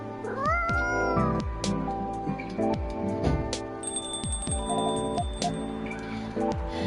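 A cat meows repeatedly in the video game Coffee Talk 2, with several clear, close meows and a longer drawn-out caterwaul, over chiming game music and small bell-like tones.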